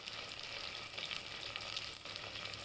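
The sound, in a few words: whole spices and garlic sizzling while sautéing in oil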